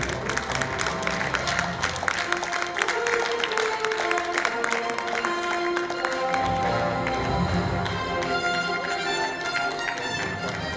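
Steady applause from a crowd at an Islamic clothing festival in Kazan, Tatarstan, fills the whole stretch, dense and continuous clapping with a busy, lively texture.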